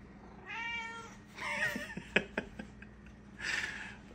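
A pet cat meows repeatedly on a kitchen counter, several drawn-out, close meows with short pauses between them, clear and fairly loud with no talking.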